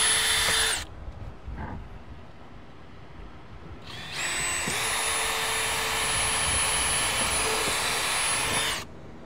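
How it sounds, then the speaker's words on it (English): A power drill bores holes in deck boards during a deck makeover, whining at a steady high pitch in two bursts: a short run, a pause with faint background, then a longer sustained spin. "Drill these holes."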